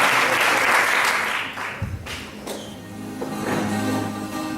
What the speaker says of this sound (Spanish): Un aplauso querido.